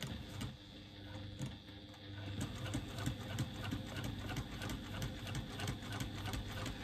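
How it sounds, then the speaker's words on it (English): A sewing machine stitching close to the join line of a strap made from joined panels, a quiet, steady mechanical whir with rapid ticking needle strokes running continuously and no talk. "I'm just stitching at 1/8 of an inch away from that join line"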